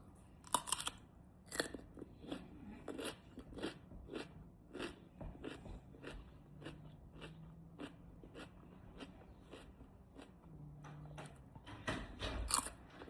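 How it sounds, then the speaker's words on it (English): Crunchy food is chewed close up in a quiet room, with a rapid, irregular series of sharp crunches and bites continuing alone for several seconds. "That crunch though."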